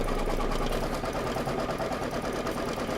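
Embroidery machine stitching a fabric tack-down for a Kimberbell table topper, a fast steady mechanical whirring rattle running close and continuous, with no one speaking.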